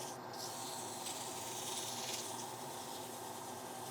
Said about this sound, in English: This is a piece of 400 grit wet and dry sandpaper. Keep working it in there.